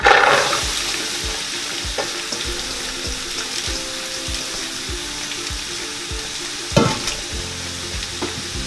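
Carrots, celery and onions sizzling in an oiled pan, a continuous bright frying hiss with occasional stirring clatter, close and fairly loud, no talking.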